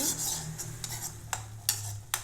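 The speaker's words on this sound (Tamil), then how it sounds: "சேர்த்திட்டிங்க நல்லா வதக்கி விட்டுக்கலாங்க" Ground masala stirred in a kadai for peas masala, a low steady sizzle under a few sharp spoon or spatula clinks against the metal pan, close by and without talk.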